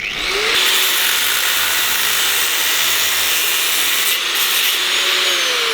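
A power tool cuts or grinds the end off an old steel nut runner screwdriver, producing a loud, continuous, harsh abrasive whine that holds steady from start to finish at close range.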